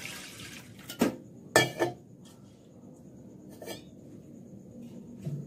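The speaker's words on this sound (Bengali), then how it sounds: "আমি দুবার জল দিয়ে ভালো করে ধুয়ে নিয়ে তারপরে তোমাদেরকে আবার দেখাচ্ছি।" Red lentils washed with water in a metal pot: a few splashy sloshes and clattering knocks come in short bursts, then a quieter stretch and one more swirl of water, close and alone.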